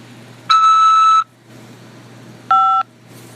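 A phone keypad tone for pressing 5 to accept a call, heard as two clean electronic beeps, the first longer than the second, over a faint background hum.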